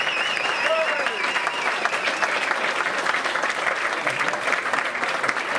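A charity event crowd claps in steady, dense applause throughout, fairly loud and continuous, with a brief faint whoop near the start.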